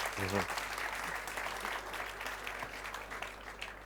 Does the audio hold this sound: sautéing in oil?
no